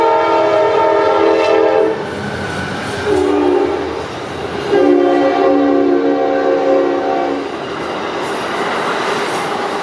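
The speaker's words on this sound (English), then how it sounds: "Fortunately, it was a passenger train, not one of those freight trains." A passenger train rumbles past close by, its horn sounding in long sustained blasts that swell and fade over the rolling clatter of the cars.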